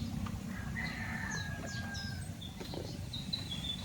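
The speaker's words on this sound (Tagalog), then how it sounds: "mga manok din natin yung mga yan" Native chickens in a backyard, with repeated clucks and short crowing calls over a steady rustling background, fairly close and clear.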